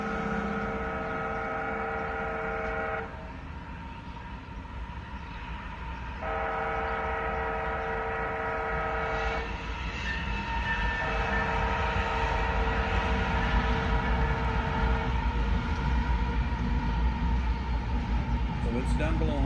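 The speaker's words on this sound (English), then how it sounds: "It's a wayside horn you hear." Railroad wayside horn blowing steady, multi-tone blasts at a crossing as train engines pass, the loud horn chords stopping and restarting over a constant rumble of passing locomotives and rail cars.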